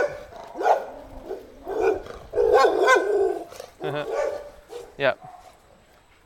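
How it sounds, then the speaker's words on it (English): Several dogs bark and growl nearby in repeated bursts, some loud and close, overlapping a voice. "gotta get clear of some noisy dogs in the background"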